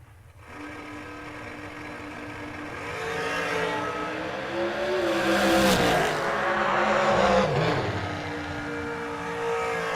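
Drag racing cars roaring down the strip at a $500K race event, a loud sustained engine howl that rises and swells as the cars pass, with pitch sweeping up and then falling away.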